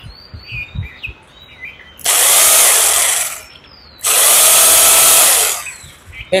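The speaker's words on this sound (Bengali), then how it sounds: "এটি হচ্ছে 800 ওয়াটের ক্রাউন ব্র্যান্ডের রোটারি হ্যামার ড্রিল" A Crown 800-watt, 26 mm rotary hammer drill rated at 1300 rpm runs in two loud bursts of about two seconds each with a short pause between. Birds chirp faintly in the quiet gaps.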